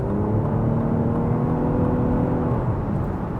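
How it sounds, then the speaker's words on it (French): A Lexus LBX three-cylinder car engine idles steadily at close range while charging, a smooth low hum with no voices. "Même lorsque la voiture est en charge, le bruit n'est pas forcément envahissant."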